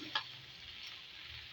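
Okra frying in a small amount of ghee gives a steady, quiet sizzle with a faint stir or clink near the start. No one speaks.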